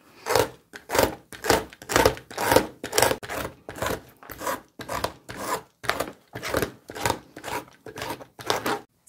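A blade scraping 100% cotton overalls to distress the fabric, a close rhythmic rasping of about twenty even strokes, each a short gritty rub with a brief gap between, heard alone.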